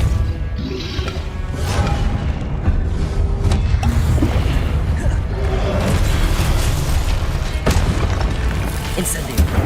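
Depulso spell blast in Hogwarts Legacy, a dense stretch of loud booming impacts and crashing bursts that runs continuously, with a voice talking over the action.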